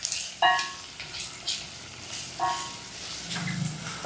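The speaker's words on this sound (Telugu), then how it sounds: "ఇప్పుడు ఈ పచ్చిమిర్చి ఉల్లిపాయను కూడా దోరగా వేపుకుందాం" Green chilies and chopped onion frying in a pan for dal tadka, a soft steady sizzle broken by a few sharp crackles and clinks of stirring, close and moderately loud.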